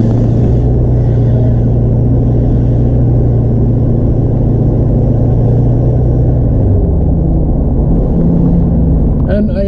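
A DPF-deleted 6.7 diesel truck with a 5-inch straight pipe cruises steadily, its loud, continuous low engine drone and rumble dominating throughout, with a slight pitch shift near the end.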